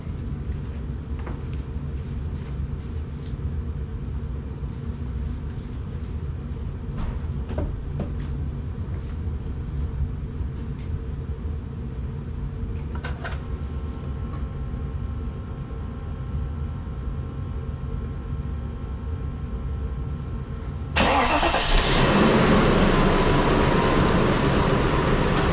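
A 1997 Mercedes S500 W140's blower motor hums steadily under a low cabin drone, then jumps to a louder rushing whoosh of air when the AC is switched on partway through.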